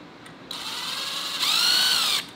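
A power drill taps a 10/32 hole in 3/8 inch mild steel plate at about 200 RPM, a high whining motor that starts abruptly, rises in pitch and loudness midway, then cuts off.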